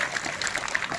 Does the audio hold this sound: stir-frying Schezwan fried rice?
no